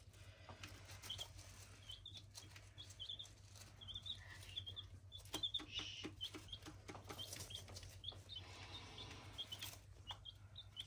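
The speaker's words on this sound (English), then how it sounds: "Where are you going, you silly chicken?" A chicken moving about on a farm, with soft wing flaps and scattered faint clucks over a low steady hum, quiet and fairly close.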